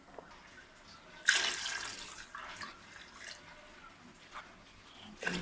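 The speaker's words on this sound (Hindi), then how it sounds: "अब हम इसमें पानी डाल देते हैं।" Water is poured into a pot of spiced rice with soaked rice grains, a burst of splashing that begins abruptly and continues more softly, with brief later pours near the end.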